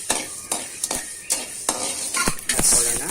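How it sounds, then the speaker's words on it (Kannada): Mustard seeds spluttering in hot oil for an instant mango pickle, a run of sharp crackling pops every half second or so, closer together toward the end, over a faint steady sizzle. "ಸಾಸಿವೆ ಹಾಕಿ 2 ನಿಮಿಷ ಚಟಪಟ ಅನ್ನೋಷ್ಟಕ್ಕೆ"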